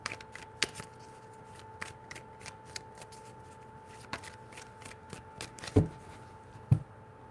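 Tarot cards being shuffled by hand, a series of soft quick riffles and taps spaced irregularly over a quiet hum, with two sharper slaps near the end.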